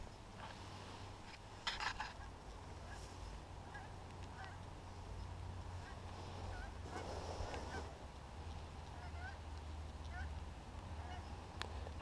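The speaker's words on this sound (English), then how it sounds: "the geese are heading your way." Geese flying south honk a few times in the distance over a low steady rumble, with scattered faint calls throughout.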